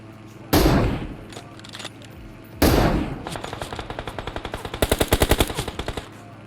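Gunfire in PUBG Mobile: two loud single shots a couple of seconds apart, then a rapid automatic burst that builds into a steady string of sharp, close reports.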